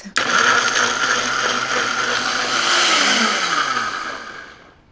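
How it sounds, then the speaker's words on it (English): A blender purees chiles with their cooking liquid, a loud continuous whirring roar that starts abruptly, holds steady with a slight pitch shift midway, then winds down at the end. "I'm gonna puree this until completely smooth."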